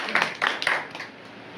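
Workers at a labour day gathering are clapped for in a short burst of hand claps, a few distinct claps close by before quickly dying away.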